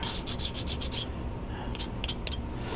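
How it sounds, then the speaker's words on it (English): Quick rhythmic strokes of sandpaper rubbing nubs off a wooden control line model airplane part, close and raspy, a rapid run of strokes followed by a few scattered scrapes. "sand some nubs off real quick"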